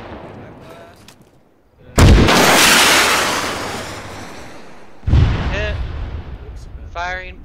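Two loud rocket launches with backblast in a jungle-set military video game, each a sudden heavy boom followed by a long rumbling roar that fades over several seconds, with faint radio chirps in between.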